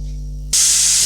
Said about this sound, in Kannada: ನೋಡಿ ಇದು ತರಕಾರಿ ಇಟ್ಟಿದ್ನಲ್ಲ ಅದು ಒಂದು ಕೂಗ್ ಕೂಗಿದೆ